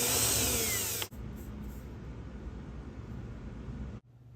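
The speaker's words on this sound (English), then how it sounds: "drilling at a high speed with light pressure from the back of the board worked best for a nice clean drill hole" Power drill boring a hole through a wooden Plinko board at high speed with light pressure, a loud close whine that cuts to a steadier hiss of drilling for about three seconds before stopping abruptly.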